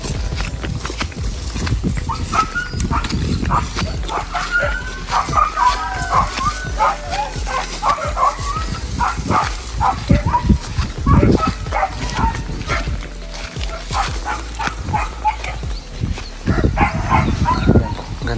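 Dog barking outdoors on a hillside farmland lot overlooking the sea, a few scattered barks at mid distance over steady wind and background noise, with people talking intermittently.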